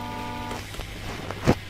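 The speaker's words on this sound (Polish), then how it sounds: "Co za lama, ciągle na mnie trąbi." Vehicle horn in the trucking game 18 Wheels of Steel Across America: a sustained, buzzy horn tone holds for about half a second, then gives way to a low engine drone with a few sharp clicks and a brief thump.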